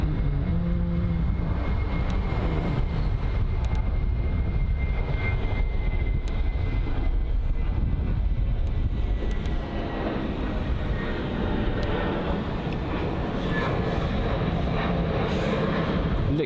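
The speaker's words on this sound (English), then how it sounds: "Looks to be a British Airways A320 that had gone around, either an A320 or an A319." A British Airways Airbus A320 or A319 goes around at London Heathrow, its engines roaring steadily and loud for the whole stretch, a sustained broadband rumble with no talk over it.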